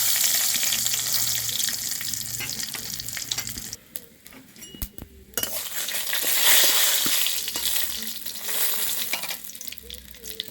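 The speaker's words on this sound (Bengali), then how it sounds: "কড়াইতে কিছুটা সর্ষের তেল দিয়েছি আর দুটো শুকনো লঙ্কা তিনটে তেজপাতা ফোড়ন দিচ্ছি" Mustard oil sizzles loudly in a pan as dry chillies and bay leaves fry, broken briefly by metallic clinks and stirring before the crackling hiss returns.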